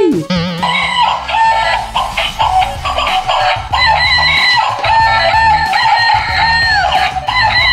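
A cartoon chicken clucking and a rooster crowing loudly up close, mixed with other busy cartoon sounds across the whole stretch.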